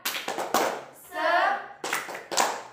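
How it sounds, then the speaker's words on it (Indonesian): Rhythmic hand clapping from a classroom group doing the Tepuk Semangat clapping game, bursts of several quick claps separated by short pauses, with children's voices chanting in the middle. "Oke, tepuk semangat."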